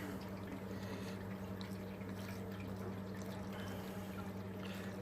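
Tap water running through a wort chiller while a 23-litre homebrew batch cools, a faint, steady trickling flow with a low hum underneath and no breaks.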